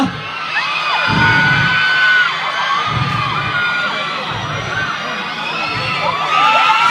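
Loud, sustained screaming from a big concert crowd in Songkhla, Thailand, shrill cries sweeping up and down over a constant roar, with occasional thumps beneath.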